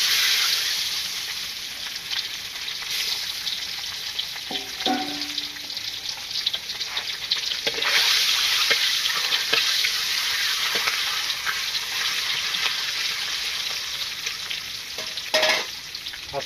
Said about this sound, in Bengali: তেল গরম হয়ে গেছে, আগে ডিম ভাজি করে নেই।